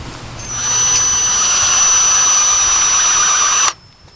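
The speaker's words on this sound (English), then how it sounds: "And I'm drilling those holes with this drill." A power drill drilling holes in a pipe whirs at high pitch for about three seconds, steady and close, then cuts off abruptly leaving faint residual hum.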